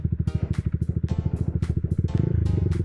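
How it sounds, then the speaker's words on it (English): Yamaha MT-125 motorcycle with an aftermarket exhaust downshifting, a close, loud rhythmic burble of rapid exhaust pulses that rises and quickens as the revs climb near the end. "There's nothing I enjoy more than downshifts on this bike."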